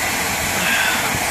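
A homemade crucible furnace burner, set to low flow after running for about ten minutes, gives off a steady, loud roaring hiss without pause.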